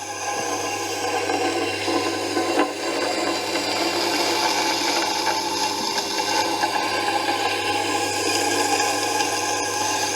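A steel file is worked along the edge of a long axe, giving continuous rasping, rubbing strokes, close and fairly loud, with no talk over it.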